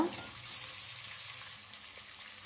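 Chopped tomato frying in a pan for a South Indian kadlekaalu gojju, a steady soft sizzle running throughout, close and even.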